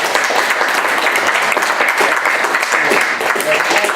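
Audience applause at a poetry reading in a library, dense continuous clapping from a room full of people, loud and near, holding steady for several seconds without pause.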